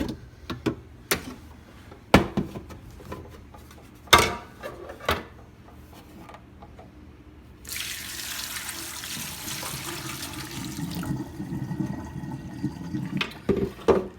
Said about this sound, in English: then go ahead and empty the water reservoir